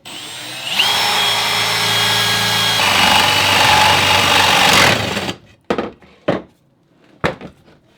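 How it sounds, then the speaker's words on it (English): A power drill whines steadily while boring into wood for about five seconds, then stops, followed by a few short sharp clatters and knocks. "Now I'll just drill 4 more holes."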